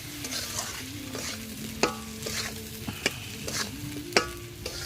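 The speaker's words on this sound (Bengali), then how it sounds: "এখন আমি ভালো করে একটু নেড়ে চেড়ে নেব।" A spiced potato mixture with turmeric, salt and ground coriander-cumin fries and sizzles steadily in a pan, with a spatula scraping and stirring through it in repeated strokes and occasional sharper clinks against the pan.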